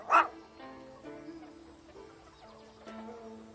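A storybook dog named Little Brother lets out one sharp bark right at the start, followed by a soft, quiet musical backdrop.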